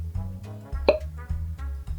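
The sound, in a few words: cork popping out of a Heaven Hill bourbon bottle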